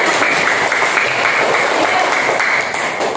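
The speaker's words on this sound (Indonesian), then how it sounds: "Ya, mana tepuk tangannya?" A classroom group in an Indonesian Qur'an and Hadith lesson bursts into dense, steady applause, many hands clapping together at an even loudness throughout.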